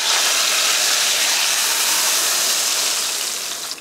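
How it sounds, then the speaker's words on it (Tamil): Hot spice tempering with curry leaves, poured onto mutton curry, gives a loud, steady hiss and sizzle that holds evenly and fades slightly at the end. "ஆஃப் பண்ணிவிட்டு இந்த தாளிப்பை மட்டனில் ஊற்றிக்கலாம்"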